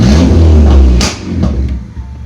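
A turbocharged car engine revving loudly up close, then dropping off with a few sharp exhaust pops and crackles as the revs fall.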